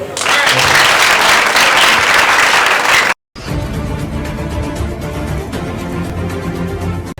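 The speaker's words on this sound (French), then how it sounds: "Applaudissez." A crowd at a public gathering in Benin bursts into dense, loud applause for about three seconds, then an abrupt cut gives way to noisy crowd murmur and movement.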